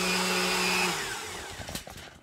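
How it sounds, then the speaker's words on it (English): A kitchen blender whirs steadily while batter for wheat berry pancakes is being made, the motor's high whine spinning down and cutting out partway, leaving faint clatter and rustling. "our blender stopped because my blender is kind of a weird blender"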